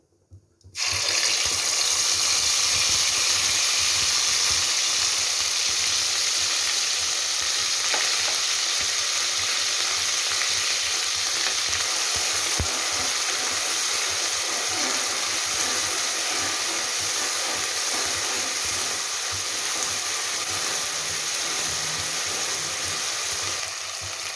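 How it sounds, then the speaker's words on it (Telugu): Onion paste and tomato frying in a hot pan for ginger chicken curry, a loud, steady sizzle that starts abruptly and continues unbroken, with faint stirring scrapes underneath. "ఇది కొంచెం వేగిందంటే ఇప్పుడు ఆనియన్ పేస్ట్ టమోటా వేస్తుంది"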